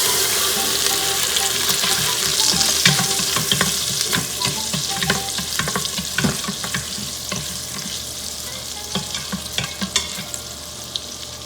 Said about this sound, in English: Once the butter is melted, we're going to add few pinches of cumin seeds and 2 green chilies roughly chopped